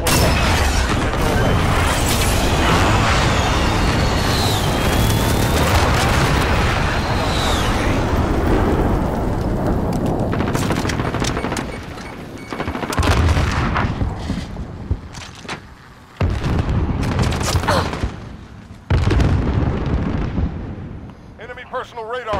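Airstrike explosions and heavy gunfire in a military shooter video game form a loud, dense, continuous barrage of booms and rattling shots, thinning into separate bursts and blasts near the end.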